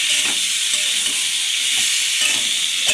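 Boiled potatoes frying in oil in a pan for aloo dum, a constant close hissing sizzle with faint soft stirring knocks, no talking.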